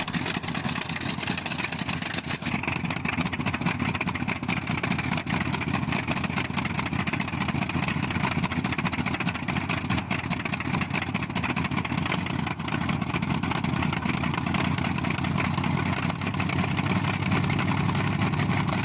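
A Bristol Hercules sleeve-valve radial aircraft engine from World War II running at a steady, loud, even drone, with a rough rumble and a constant whine that holds throughout.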